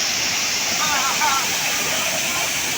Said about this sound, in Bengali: এই হলো সুপ্তধারা ঝর্ণা